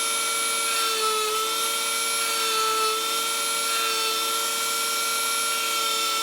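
A Dremel rotary tool mounted in a workstation whines steadily with a high, constant motor tone while sanding a round-over on the end of a piece of wood, loud and close, without a break.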